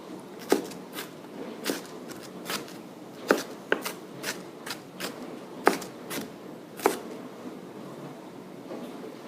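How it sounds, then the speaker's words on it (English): Vegetables chopped with a sharp kitchen knife on a board while making a quick healthy omelette, a dozen or so crisp, irregular knife strikes heard up close with nobody talking. "so I'm going to give them another chop"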